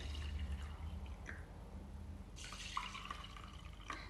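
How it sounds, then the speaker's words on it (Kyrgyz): Clean water poured into a glass holding rice, a soft, faint trickle and splash of liquid in a quiet room. "Таза суу куябыз."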